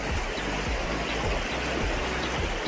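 Chilled river water flows and rushes steadily at close range, a dense, continuous wash of turbulent noise with no pauses and no voices.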